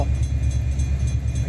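Freight train in the Run8 train simulator video game rolling along with a steady low rumble and faint periodic clacking, close and continuous.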